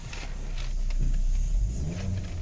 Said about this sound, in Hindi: गाड़ी चालू हो चुकी है